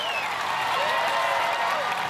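A large arena crowd at American Ninja Warrior roars and cheers in a continuous loud wash with some applause mixed in, sustained throughout.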